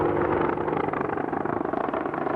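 An Apache Longbow attack helicopter heard up close, its loud, steady rotor and engine roar holding continuously with a dense rhythmic chop throughout, no voices.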